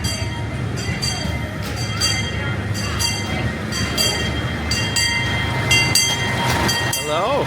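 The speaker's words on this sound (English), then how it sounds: "here comes the train right now" A City Park amusement park train rumbles past on the rails with a steady low roar, clanking wheels and a brief metallic squeal near the end, close and loud.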